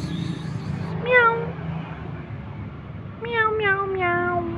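A small kitten meows several times indoors, a single cry followed by a quick cluster of three rising-falling meows, clear and close over faint background murmur.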